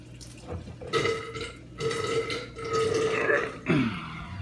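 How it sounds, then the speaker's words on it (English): Water gurgles and splashes in bursts as it drains from a 110-gallon reef aquarium through an opened ball valve, with wet glugging pulses recurring every second or so, fairly close and with no talking. "I'm going to open the ball valve to drain water out."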